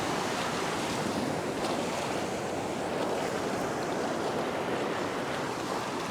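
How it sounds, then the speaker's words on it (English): Ocean surf washes and breaks steadily along a beach during fishing, a continuous broadband roar with wind buffeting the microphone throughout. "Bit of a break in the waves."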